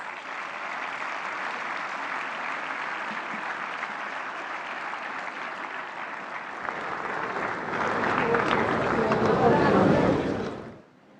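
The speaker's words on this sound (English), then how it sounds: "May I please request you all to let's welcome him with a round of applause." An audience at a national AI summit gives a round of applause to welcome the Prime Minister, steady clapping that swells toward the end before stopping abruptly.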